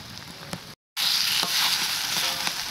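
Fish fries on taro leaves seasoned with salt and turmeric in a pan, giving a close, steady, loud sizzle broken by one brief gap of silence, with no talking.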